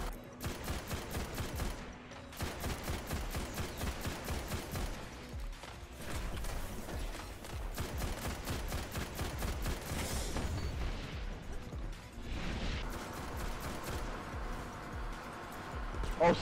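In the Destiny video game, the Inward Lamp scout rifle fires rapid, evenly spaced bursts of sharp shots that repeat across the stretch, mixed with other in-game gunfire and mechanical clatter.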